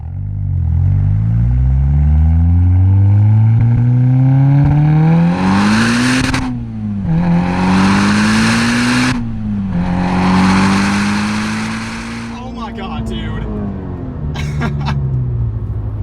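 A tuned 510 whp Volkswagen Golf R pulls hard through the gears, its engine note rising loud and close, broken by brief shift gaps with a raspy roar, then easing to a lower drone near the end.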